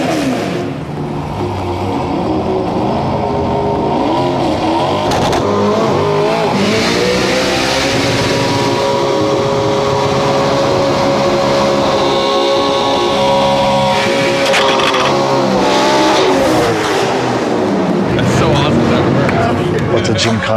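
Ken Block's rally car revving hard off the clutch, its engine note climbing and wavering in loud, sustained bursts, with a brief tire squeal, under crowd babble and talk.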